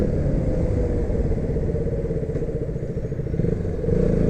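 A KTM Duke 200 motorcycle rides by with a continuous, rough engine rumble and light mechanical clatter, moderately loud and swelling slightly toward the end, with no voices.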